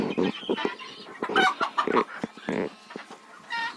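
Several chickens cluck and chatter close by at a small farmstead in the evening, short bursts of calls overlapping in an irregular rhythm, with a little faint background noise.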